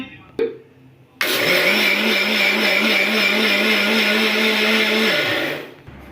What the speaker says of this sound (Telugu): సో నెక్స్ట్ ఇదంతా మనం మిక్సీ పట్టేసుకుందాం